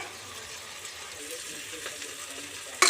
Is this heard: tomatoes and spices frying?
yes